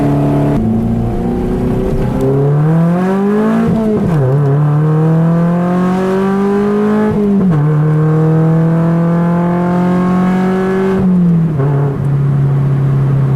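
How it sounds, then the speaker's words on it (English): A car engine pulls loudly through several gears, each rising whine dropping sharply at the shift before climbing again, close and steady with no voices. "That's a proper car noise."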